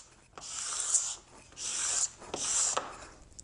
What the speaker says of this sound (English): So now I'll resort to the sharpened putty knife to scrape off the rest.